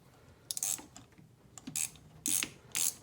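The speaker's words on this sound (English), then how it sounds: "we're going to stick a ratchet on it. And we're going to break these spark plugs loose" Ratchet clicks while spark plugs are broken loose on a Honda Acty engine during a tune-up, with several short bursts of rapid ratcheting separated by quiet pauses.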